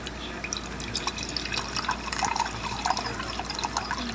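Water pouring from an Osaka electric kettle into a cup, a steady close liquid stream with small splashy bursts lasting throughout, loud and continuous.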